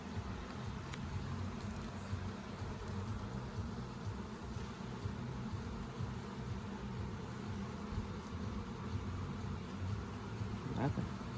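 Honey bees buzzing in an open beehive during an inspection in Ontario, a continuous low drone from many bees close by, with a few soft handling noises and occasional quiet talk.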